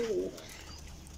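A pigeon gives a single low, soft coo at the start, close by, followed by quiet background.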